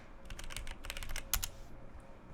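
Quick, light clicks of fingers typing on a computer keyboard come in a short burst of irregular taps, with a sharper cluster near the end, fairly quiet and close, with no voices.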